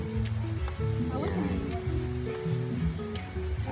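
Previously boiled meat frying in its own rendered fat, a steady crackling sizzle running throughout with a voice talking over it.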